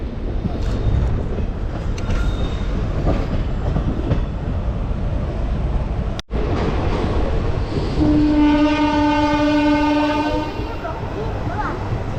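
Aboard the Santragachi–Digha passenger special train, a loud steady rumble and clatter of the carriages rolls on, then a long sustained horn sounds near the end over the running noise.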